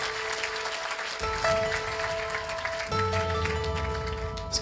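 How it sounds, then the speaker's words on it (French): An audience at the Pierres d'Or 2007 awards ceremony applauds the nominees in the users category, with steady, dense clapping filling the room throughout over a faint tonal hum. "Alors on va tous les applaudir."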